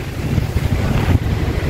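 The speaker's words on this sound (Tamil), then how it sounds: "இந்த இடத்துல வந்து ரொம்ப சில்லுன்னு காற்று வருது பாருங்கள்" Cool wind gusts across open marsh land in Pallikaranai, buffeting the microphone with a steady, loud, low rumble that carries on throughout.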